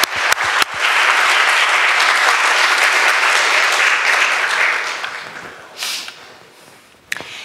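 A church congregation at a Sunday service applauds for mothers, a loud sustained burst of clapping from many people that thins and fades after about five seconds, with a few sharp knocks at the start and end.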